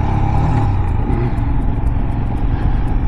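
A 2024 Royal Enfield Himalayan motorcycle engine runs with a steady, loud, close rumble, held at gentle revs throughout with no talking.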